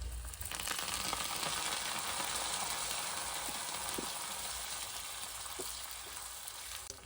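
Garlic, mustard seeds, cumin, urad dal, dried red chillies and curry leaves sizzle in hot tempering oil for Thummi Kura Pappu, giving a continuous dense hiss with faint small pops and no voices.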